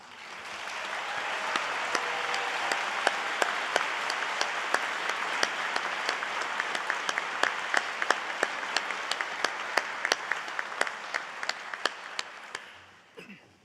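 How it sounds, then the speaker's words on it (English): A commencement crowd applauds the standing faculty at a college of optometry graduation, a long, even roar of clapping with sharp individual claps poking through, then tapering off at the very end. "Faculty members, please rise to be recognized as we applaud you for your outstanding scholarly contributions"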